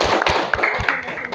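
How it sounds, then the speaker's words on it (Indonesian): A classroom audience gives a short burst of applause, a few uneven claps and taps, close and brief, with no speech over them. "tepuk tangan"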